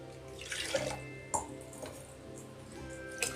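Water splashes and trickles into a pressure cooker in uneven bursts, nearby and fairly quiet, with a few light clinks, as water is added to rice for vegetable biryani.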